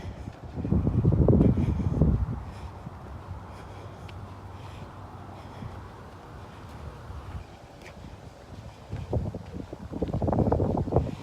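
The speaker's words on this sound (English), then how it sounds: "It's also kind of breezy" Gusty wind buffets the microphone outdoors on a walking trail on a crisp, cool morning, with loud rumbling bursts at the start and end and a softer, steady breeze in between.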